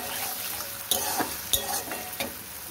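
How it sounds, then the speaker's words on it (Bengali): Green peas sautéed with spices in a kadai for a pea and paneer curry, a constant sizzle with a few distinct scraping strokes of a spoon stirring against the pan, close up. "কড়াইশুঁটিগুলোর সাথে মশলার সাথে ভালো করে কষিয়ে নেব"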